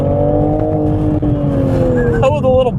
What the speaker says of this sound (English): Oh, the little pops. I love the exhaust.